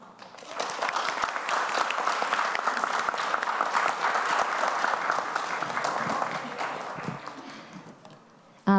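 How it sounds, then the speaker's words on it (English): An audience at a youth summit opening event claps for a panel and its facilitator, the applause swelling quickly, holding steady for several seconds, then tapering off near the end. "give a round of applause to all panelists and Alice French"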